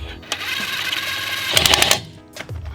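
An impact wrench on its high loosening setting breaks a lug nut free with a close, loud burst of rapid hammering, followed by a few short clicks and bumps.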